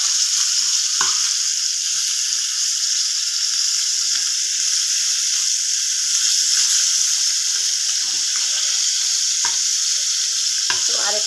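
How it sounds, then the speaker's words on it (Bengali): Fish fries in a pan of hot oil with a loud, unbroken hiss and sizzle, scattered with small pops and spits, and no one talking. "তো মাছটা একটু ভাজা হয়ে গেছে।"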